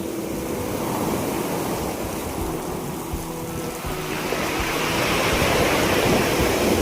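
Heavy ocean surf roars continuously, broad and rushing, with wind buffeting the microphone and the crash building louder toward the end, at a beach in Mauban, Quezon.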